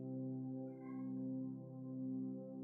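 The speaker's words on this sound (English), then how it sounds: "You might be able to hear our cat, Zoey, talking a little bit." A house cat vocalises indoors with a faint, drawn-out, low meow-like call that swells and eases in a couple of soft waves, quiet and alone with no talking.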